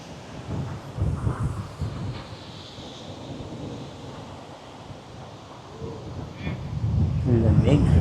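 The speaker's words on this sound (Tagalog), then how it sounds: "Sobrang lakas ng hangin." Strong, cold wind buffets the microphone in heavy, rumbling gusts throughout at Pagudpud, Ilocos Norte, swelling louder toward the end, with brief voices and faint background sounds underneath.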